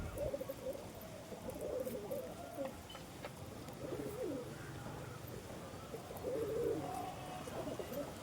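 Several Andhra Pilanka pigeons coo in overlapping, warbling bursts over a steady, noisy loft background, the calls moderately loud and repeating throughout with no voices over them.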